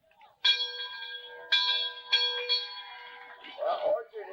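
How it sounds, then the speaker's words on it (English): A 30-second warning bell rings in a virtual horse race, with several clear metallic strikes about a second apart, each ringing on before the next, and a voice briefly talking at the end. "There's the 30-second warning bell."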